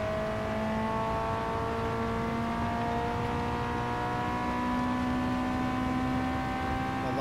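A racing car in Gran Turismo 7 drones on steadily with a loud engine tone that shifts slightly in pitch as it brakes and picks up speed, continuous and up close throughout.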